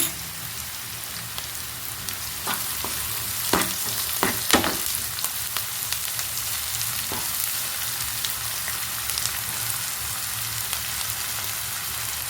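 Sliced onions fry in a pan for coconut chammanthi, giving a steady, even sizzle like light rain, with a few soft clinks and stirring taps breaking through, fairly close and with no talking.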